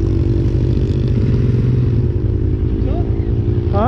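A Can-Am Renegade 800 quad rides through the Juniper Dunes with a loud, steady engine drone and throttle, heard up close the whole time while people talk over it.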